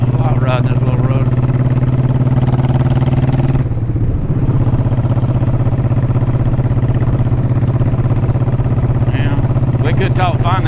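A 2007 Honda Shadow Sabre 1100 motorcycle rides along a small rural road, its engine a steady loud low drone throughout with a brief dip in the middle, while someone talks over it.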